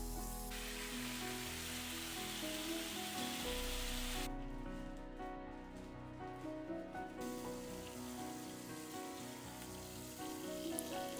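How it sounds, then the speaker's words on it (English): Pork belly sizzles in a heated pan, a steady crackling hiss that carries on without pause, close-up and moderately loud. "the most satisfying part is hearing this sizzling noise."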